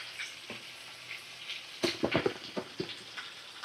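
Spices sizzle and fry in a pan after turmeric powder is added to a Bengali fish curry, with soft background crackle and a burst of louder stirring scrapes and clinks near the middle.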